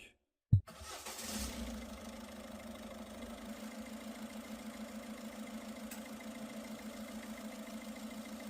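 A common rail diesel car engine cranks briefly and fires up, then settles into a steady, even idle with a faint rhythmic knock, heard close and alone.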